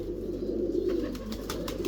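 Ferozpuri pigeons coo softly in a loft, a low, steady, faint burbling murmur with no voices over it.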